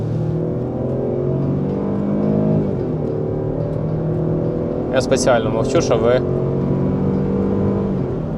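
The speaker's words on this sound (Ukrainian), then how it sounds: "почули просто цей звук двигуна" A Jeep Grand Cherokee engine pulls steadily with a low, even drone as the pedal is pressed, rising slightly in the middle of the clip, with a person talking over it throughout.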